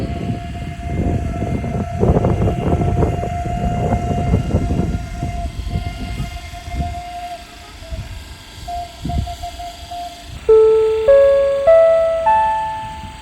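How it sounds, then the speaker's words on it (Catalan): A Catalunya Express train sits at platform 5 of a station during a railway festival. Loud rumbling and clanking run under a long steady tone, and then an electronic chime sequence rings out near the end. "Catalunya Express, procedent de Barcelona Sant Andreu Comtal, destinació Saragossa Delícies. sortirà per la via 5."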